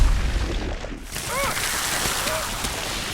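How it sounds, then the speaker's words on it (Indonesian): A bomb goes off in the sci-fi war film Edge of Tomorrow: a deep boom opens, followed by a rumbling wash of debris and scattered effects. A voice is heard over the sound as it fades. "Bom pun meledak."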